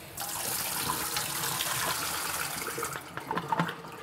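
Liquid poured out of a film developing tank rushes and splashes in a continuous stream for about three seconds before trailing off into a few irregular gurgles and drips.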